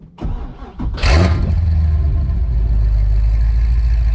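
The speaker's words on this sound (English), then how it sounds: "let's go ahead and get a little exhaust clip of that naturally aspirated LS7" A Corvette C6 Z06 with a naturally aspirated LS7 V8 cranks briefly, then fires with a loud bark and drops into a deep, steady, rough idle, heard close with no talk.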